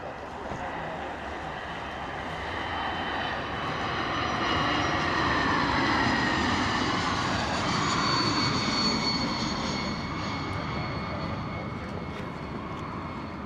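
Bombardier aircraft passing overhead, a broad jet-engine roar that swells gradually to a peak mid-pass and then fades slowly as it moves off, heard from outdoors at a distance.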